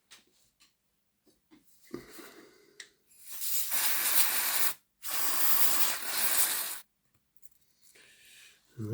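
Two long bursts of aerosol lubricant spray into the gearbox of a seized Hornby R9048 model locomotive, each lasting about two seconds with a brief gap, preceded by light handling clicks.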